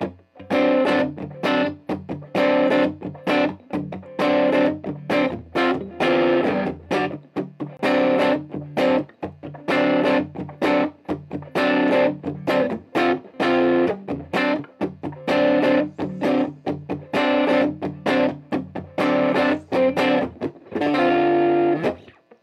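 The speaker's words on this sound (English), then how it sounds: "So that is what a more of a preamp style distortion pedal is going to do to the Vox amp, set fairly clean." Electric guitar played through a preamp-style distortion pedal into a VOX amp set fairly clean, giving a loud, crunchy overdriven tone as chords and riffs ring out in a continuous rhythmic stream with no voices.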